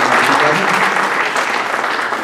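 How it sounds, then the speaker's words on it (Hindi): A mushaira audience in New Jersey claps for a poet being introduced, a dense, loud round of applause that holds steady throughout, with a faint murmur of voices beneath. "ये मेरे ख्याल में तालियाँ थोड़ी कम है"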